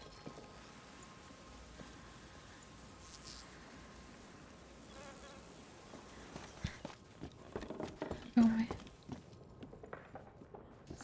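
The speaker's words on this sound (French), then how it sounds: "Ouais, les moustiques tigres, une belle saloperie." Tiger mosquitoes buzz in the video game A Plague Tale: Requiem, a steady faint insect drone that later mixes with louder scattered clicks and footstep-like thuds.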